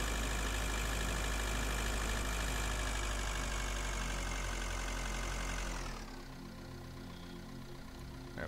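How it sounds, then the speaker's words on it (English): A space car's engine in the video game Breathedge, a two-stroke-like buzz, drones steadily and loudly, then drops abruptly to a quieter idle near the end. "Sounds like a frickin' two-stroke engine or something."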